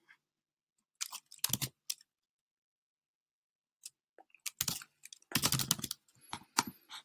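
An email address is typed on a computer keyboard in two quick bursts of crisp key clicks, separated by a long silent pause, close and clear with no voices.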